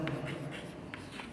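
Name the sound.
writing on a board during a maths lecture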